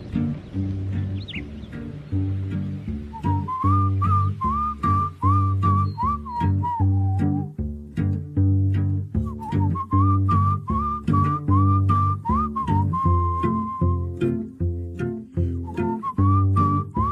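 A bright, melodic whistled tune carries the song, looping its phrase over steady rhythmic backing instrumentation.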